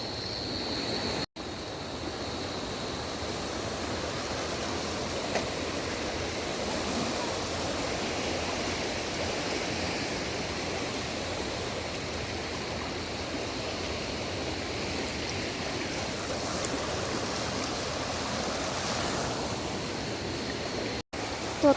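The flooded Ganga river rushes past at Haridwar, a loud, dense, unbroken roar of fast-moving water that fills the whole stretch with no pauses.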